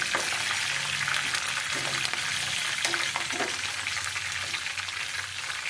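Curry leaves fry in hot oil for a coriander pickle, giving a loud, continuous close-up sizzle and crackle with a few soft stirring scrapes.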